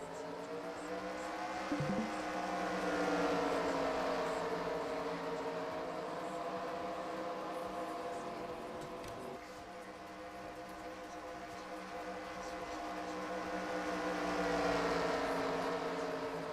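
Several race car engines drone together in a NASCAR sim racing game, a steady layered engine hum with harmonic tones that swells and eases, continuous throughout with no talk.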